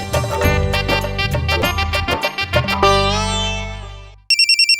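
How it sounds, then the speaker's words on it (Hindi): A loud electronic phone ringtone plays a melodic chiming tune, followed by a short burst of rapid repeated beeping tones. "फोन की घंटी बज रही है।"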